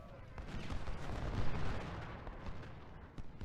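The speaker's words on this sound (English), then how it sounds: "Bring this artillery up to pound you at close range." Artillery in Ultimate General: Civil War during the Battle of Gettysburg, a steady rumbling barrage of cannon booms and volleys blending into continuous battle noise, moderately loud and sustained.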